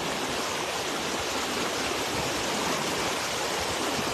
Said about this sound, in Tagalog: malakas ang agos dito ng tubig